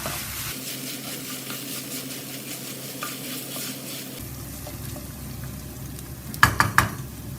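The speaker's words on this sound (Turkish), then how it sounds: "Kıyma yağını saldıktan sonra bir yemek kaşığı tereyağı, 3 diş sarımsak, tekrar kavuracağım" Butter and three cloves of garlic sautéing with browned minced meat in a pan for Turkish içli köfte, a steady close sizzle under stirring, with a few sharp utensil clinks near the end.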